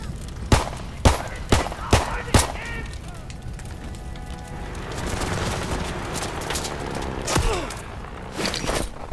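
Rapid gunfire in Call of Duty WWII: a run of five sharp, loud shots near the start, then a noisy stretch of battle sound with scattered later bangs, no speech.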